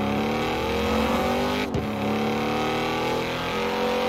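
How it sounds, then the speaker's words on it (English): A car engine in Forza Horizon 4 revs loud and steady. Its sustained harmonic drone dips briefly during a quick gear shift and then resumes at constant high revs. "I've never driven this car before up until like now, and it sounds really good"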